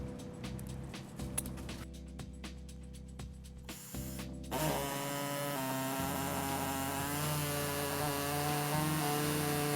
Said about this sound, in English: And to cut that out, we're going to be using an air saw.